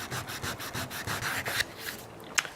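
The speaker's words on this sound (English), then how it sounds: "get some 120 grit sandpaper or something similar, whatever you have to hand, and just give that a light sanding to remove the burn marks" Routed wood sign being hand sanded with 120 grit sandpaper, rhythmic back-and-forth scratchy strokes, close and moderately quiet, slowing near the end.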